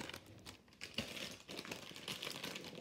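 A wrapped advent calendar gift bag is opened at a dining room table, with continuous crinkly paper rustling and crumpling that stays fairly faint and close.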